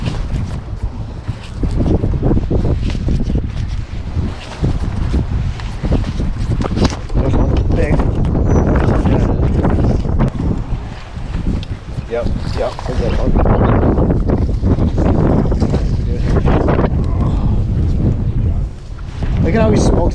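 Strong wind on Lake St Clair during spring fishing from a boat roars and buffets the microphone continuously and loudly, with people talking over it.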